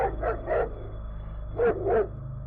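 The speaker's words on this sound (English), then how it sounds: "my dog finally noticed him and started barking" A dog barks in two quick pairs, four deep, sharp barks with a pause between the pairs, fairly close over a low steady background hum.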